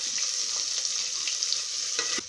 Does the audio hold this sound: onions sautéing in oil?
yes